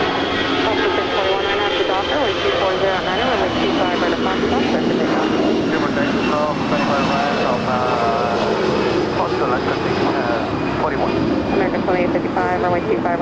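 A jet airliner roars steadily during takeoff on runway 25 right at Los Angeles International Airport, a loud continuous engine rumble, with radio chatter from air traffic control heard over it.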